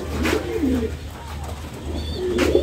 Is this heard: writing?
no